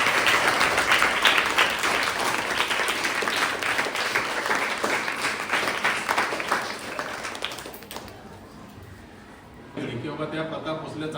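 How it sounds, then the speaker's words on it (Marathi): Audience at a school event at New English School, Phondaghat, applauding loudly and continuously for about eight seconds, the clapping dense and sustained before fading, then a brief lull and a return of softer crowd noise. "आपण टाळ्या वाजवून त्याला स्वागत करूया"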